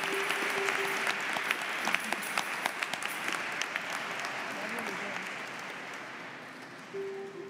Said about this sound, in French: Nous les applaudissons.